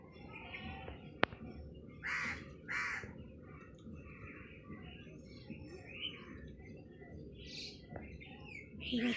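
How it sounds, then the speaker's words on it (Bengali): A crow caws outdoors a few times, with short distinct calls near the start and scattered calls later, over a steady background hum and faint chirping from other birds. "শোনো পাখিটা"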